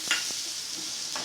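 Besan (gram flour) roasting in a pan while being stirred, giving a steady dry hiss with a few soft spoon scrapes, close and continuous.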